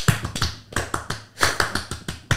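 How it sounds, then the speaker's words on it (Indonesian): Rhythmic Indonesian scout clap pattern (tepuk pramuka), several sharp hand claps in a patterned burst-and-pause rhythm, close and loud, with no talking over them. "Coba lu hafal nggak tepuk pramuka?"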